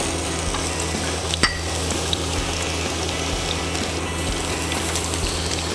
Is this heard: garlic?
yes